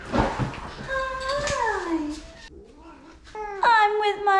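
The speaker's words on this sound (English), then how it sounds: "It's kitty cat time." A cat meows close by in a long, drawn-out call, then after a short pause gives a second, rising meow, with a person's voice briefly audible near the start.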